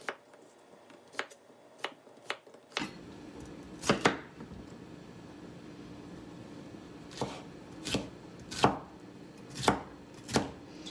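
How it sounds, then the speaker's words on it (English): Bell peppers being cut with a knife into long fajita-style strips on a board, with a series of crisp, isolated chops spaced irregularly, close and clear over a quiet room hum, no speech. "Cut these like fajita style, so they're nice and long."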